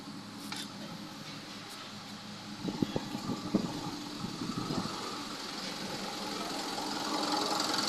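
A Fuso Canter truck's 4P10 diesel engine runs after repair of a no-start fault, with a low steady running hum, a short stretch of knocking clatter and the engine note rising slightly toward the end.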